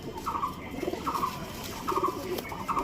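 Show pigeons, Rampuri and Kalduma breeds, coo in soft repeated rolling phrases close by, several low calls following one another in a calm loft.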